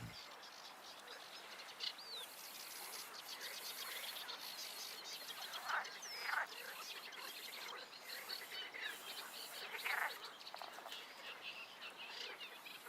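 A great reed warbler's harsh, chattering song repeats from the reeds along the Danube against a steady wash of insect and frog chorus, with a few louder bursts standing out.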